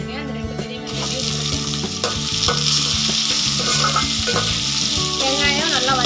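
Sliced large onions sauté with dried red chillies in a pan for pirandai chutney, giving a loud, continuous sizzle broken by the scrape and clatter of stirring, with no talking over it.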